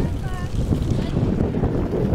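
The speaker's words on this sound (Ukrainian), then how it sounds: "Тут вітер, щоправда, досить теплий" Warm June wind at the Athabasca Glacier buffets the microphone in a low, continuous rumble, with a faint voice briefly audible underneath.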